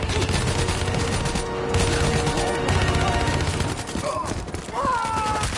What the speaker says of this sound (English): Use some cover fire.